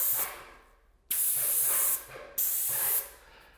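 Three sharp bursts of spraying hiss from an airless paint sprayer, each lasting under a second, separated by short pauses.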